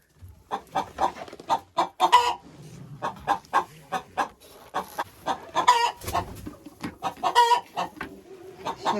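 Hens in a winter chicken coop cluck and cackle close by in repeated bursts, a busy overlapping chorus with short pauses, and no talking.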